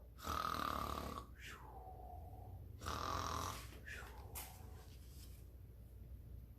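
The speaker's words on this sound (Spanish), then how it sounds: "¿Un ronquido?" Snoring in a children's storytime comes as two long, rasping snores, each followed by a whistling exhale, then trails off into quieter breathing, close and alone.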